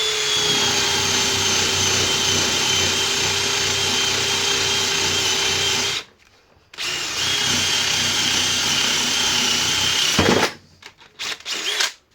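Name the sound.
drilling through router table plate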